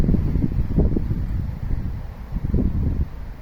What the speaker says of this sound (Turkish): Rüzgar sesi duyuluyor arkadaşlar.